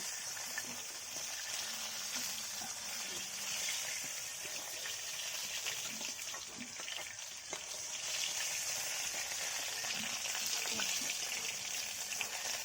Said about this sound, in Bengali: দেখতে পাচ্ছেন সুন্দর করে ভাজা হয়ে গেছে ঢ্যাঁড়সগুলো, এবার আমি তুলে নেব।